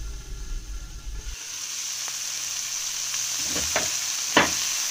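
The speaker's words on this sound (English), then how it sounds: "We're just going to give it a stir." Food stirred in a sizzling pot, a steady frying hiss throughout with a few scraping spoon strokes near the end, no one talking.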